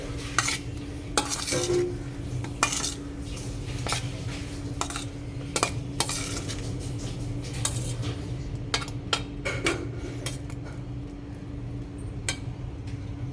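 Yam pieces tossed and mixed in a bowl, with frequent clinking and scraping of a utensil against the bowl in an irregular rhythm over a steady low background hum, close and alone.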